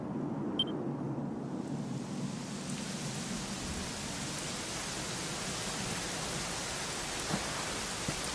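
A steady, even hiss of rain falls continuously in Dragon Quest XI, soft and wide, with a faint beep near the start and no voices.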